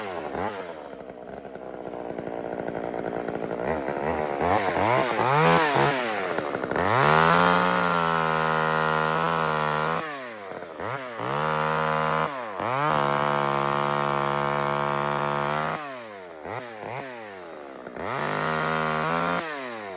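A cheap gas chainsaw revs loudly, its pitch rising and falling through repeated bursts as it is throttled up and cuts into wood, dropping back to idle between cuts.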